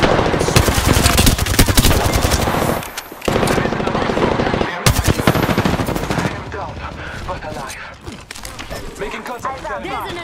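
Rapid automatic gunfire from the Apex Legends video game, loud and nearly continuous bursts with brief pauses, mixed with game effects and voice callouts throughout.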